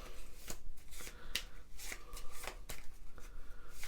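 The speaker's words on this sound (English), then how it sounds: "Shuffle however you want." A deck of Automa cards for a solo board game being shuffled by hand, a series of quick, crisp riffles and slaps at close range, fairly quiet, with no talking.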